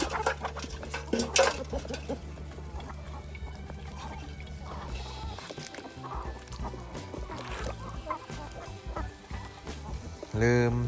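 Honking waterfowl calls, duck quacks and honks while the ducks are being fed, mixed with some background noise and a brief clatter near the end.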